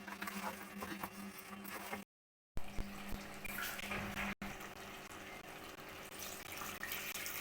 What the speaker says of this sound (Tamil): தண்ணி விட்டு